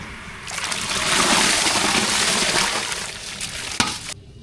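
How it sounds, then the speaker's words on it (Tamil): Washed rice and lentils tipped into hot water with a broad splashing, sloshing rush that swells and fades over a few seconds, ending with a small splash. "சாம்பார் சாதத்துக்கு தண்ணி நல்லா சூடாகிடுச்சு அரிசி பருப்பு நல்லா கழுவிட்டு வந்துருக்கோம் அது கூட சேர்த்துக்கலாம்"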